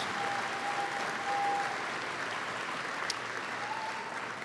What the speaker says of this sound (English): Now you may applaud our Board of Trustees.